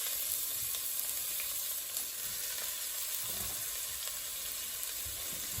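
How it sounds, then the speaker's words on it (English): Chopped leek sweats in hot oil in a pan for a mushroom and leek risotto, giving a steady, close, even sizzle with faint stirring and crackle throughout and no one talking. "pop some oil in the pan. And get my leek in there sweating off"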